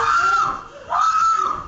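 People screaming in terror amid reported gun violence, with two drawn-out, high wailing cries separated by a brief dip, loud and close with no other sounds.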